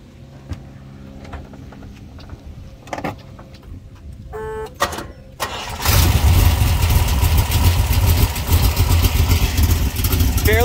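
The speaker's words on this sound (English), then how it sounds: "Well, let's fire it up. It's basically a cold start here." A 1970 Corvette V8 cold-starts after a few quiet clicks and whirs, then settles into a loud, steady, rumbling idle close by.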